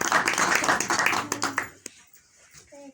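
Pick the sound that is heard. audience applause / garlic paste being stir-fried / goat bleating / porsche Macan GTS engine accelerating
audience applause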